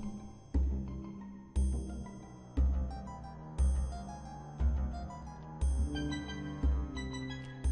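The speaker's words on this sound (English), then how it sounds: "that's the sound of the drum" Rhythmic sonified data with a deep drum hit roughly every second, bright metallic triangle tones ringing above, over a sustained tonal bed; no voices.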